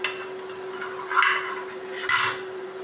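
Chilli powder, salt and turmeric stirred and sautéed in a pan for spicy noodles, a few separate scraping clinks of a spoon against metal, near and moderately loud with quiet gaps between strokes.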